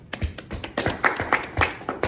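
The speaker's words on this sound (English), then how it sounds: "Give yourself a clap." A classroom group claps for a student during a microteaching lesson, a brief burst of scattered, uneven hand claps heard close by with no talk over it.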